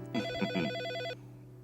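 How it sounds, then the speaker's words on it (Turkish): A telephone bell rings in a short burst of rapid electronic trills, then stops abruptly, leaving a low background hum. "Açsana kızım telefonu."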